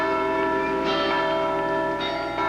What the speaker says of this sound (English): After the mass, they rang a replica of the Liberty Bell and broke into song.